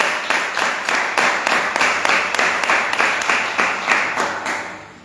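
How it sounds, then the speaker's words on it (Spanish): A church congregation claps loudly in praise, a sustained applause with a strong, regular rhythm of unified claps that fades slightly at the very end. "Déselo fuerte, aplauda fuerte a Dios."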